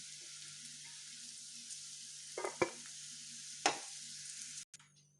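Vegetables and beans sizzle gently in an oiled pan for coconut milk rice, a steady soft frying hiss broken by two or three scraping stirs of a spoon, ending with an abrupt cut.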